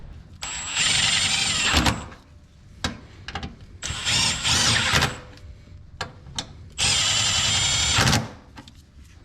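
Power tool loosening the main bolt of a car's control arm during a traction spacer and crossmember bushing install, in three loud whirring bursts with short clanks and pauses between them.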